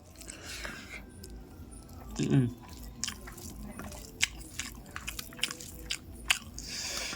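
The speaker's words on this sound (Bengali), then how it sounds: "তাহলে এবার হচ্ছে আমি বাঁধাকপি দিয়ে খাই" Soft rice mixed with cabbage is eaten by hand at a night meal. Faint, close chewing and small wet bites run throughout under quiet background noise, with one slightly louder bite partway through.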